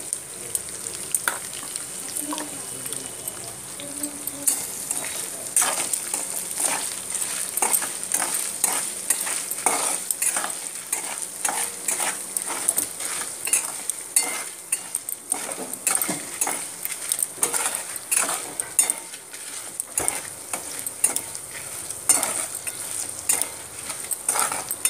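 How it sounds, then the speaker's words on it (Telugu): Tamarind rice (pulihora) being stirred in a pan, with repeated close scraping strokes of a spoon against metal over a steady hiss throughout, fairly loud and with no voices. "బాగా కలుపుకోవాలి మనం."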